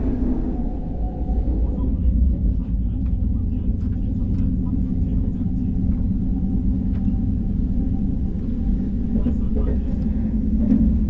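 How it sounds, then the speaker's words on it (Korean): A KTX high-speed train slows as it enters the Daegu city section near the Geumho River crossing, giving a steady, close, low rumble that continues without a break. "이후 속도를 줄인 열차는 대구북 연결선을 시작으로 대구 도심 구간에 진입하여 금호강을 건넌 뒤 이내 경부선과 합류합니다"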